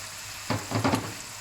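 Caramelized pork that has reduced down sizzles in a pan, heard as a few short, soft bursts of frying and stirring over a quiet background.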